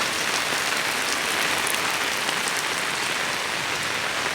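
Heavy rain pours on a village in a steady, dense hiss with no break, close and loud, alone with no voices.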